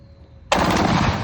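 An AR-15 rifle fires a rapid burst outdoors, a sudden loud, dense string of shots that begins after a brief quiet lead-in and continues to the end.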